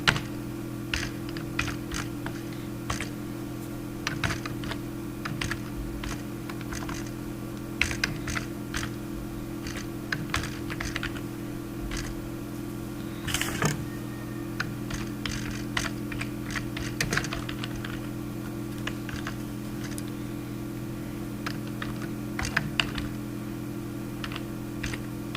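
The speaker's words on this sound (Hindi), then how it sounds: "फिर अपना डेटा टाइप कर लेते हैं" Data being typed on a computer keyboard into an Excel sheet, heard as steady close key clicks in irregular runs over a constant low electrical hum, with no talking.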